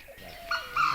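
Brief, nearby bird calls at a waterhole, a couple of rising chirps and whistles over a short second of outdoor sound, in the Tadoba buffer zone.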